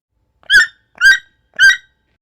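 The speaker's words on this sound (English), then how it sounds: "Toucan." Toucan call, three evenly spaced croaking notes, loud and close, each short and raspy, with silence between them.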